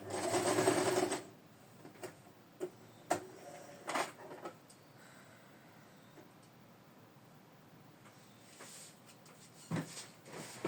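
A sewing machine whirs in a steady burst for about a second, followed by quiet handling clicks and taps.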